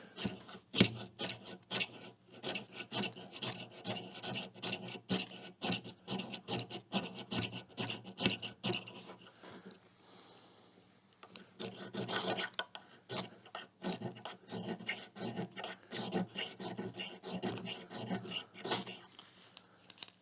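Fire-starter material from a survival fire kit is scraped in rapid repeated rasping strokes, close and distinct, pausing briefly before the scraping resumes.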